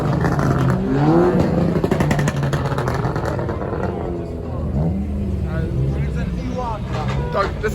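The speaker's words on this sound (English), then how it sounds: "Now we at a car meet." Car engines rumble and rev at an outdoor car meet, a continuous loud drone with rising and falling pitch, nearby and heavily overlaid by people talking.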